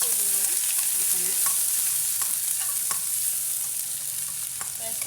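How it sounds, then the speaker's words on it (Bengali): Onions cooking in a pan for a rohu fish curry, a steady close sizzle and hiss throughout with a few faint utensil scrapes and taps. "দেখেন এখানে আমি পেঁয়াজটাকে আমি সিদ্ধ করতে দিব।"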